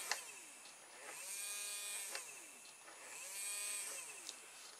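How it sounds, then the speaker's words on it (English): Small electric motor of a radio-controlled car spinning up on the bench, a faint high whine with rising and falling pitch sweeps and brief clicks, repeating twice, quiet and close. "you should be able to hear the motor."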